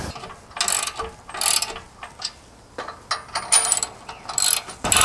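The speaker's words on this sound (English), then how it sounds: "Now tighten all the nuts that you previously hand tightened." A ratchet tightens nuts on a loading ramp platform in several bursts of rapid clicking, close and fairly loud, with short pauses between runs and no talk.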